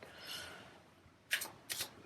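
Tarot cards are shuffled in two quick, close bursts of riffling, fairly quiet with a pause between them.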